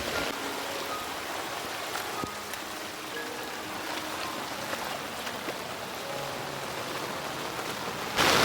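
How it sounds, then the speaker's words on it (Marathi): Steady rain patters on an umbrella with a dense hiss during a trek in the Konkan, punctuated by a few sharper drops striking close by, and no talking. "तुम्हाला कारण पावसाचा आवाज छत्री आहे ना त्याच्यामुळे आवाज थोडा कमी आहे"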